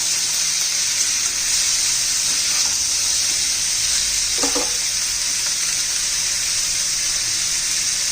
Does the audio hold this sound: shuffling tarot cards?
no